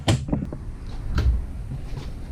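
A drawer in a 2019 Thor Vegas 27.7 Class C motorhome slides open and shuts with a couple of sharp wooden knocks and thumps, close by, against a quiet room.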